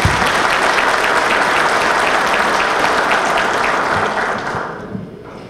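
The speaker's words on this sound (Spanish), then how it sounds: "Fuerte el aplauso." Loud, close applause from a crowd at a PRM political party rally of municipal presidents and secretaries, dense and continuous before tapering off and fading out at the end.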